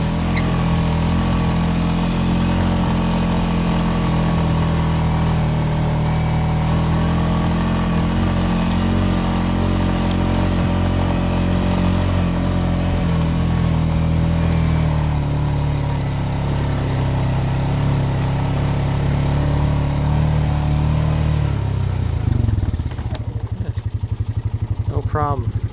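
A motorcycle on factory tires drones with a loud, sustained engine note as it climbs a steep hill after crossing a waterway in the woods. The revs rise and shift briefly near the end.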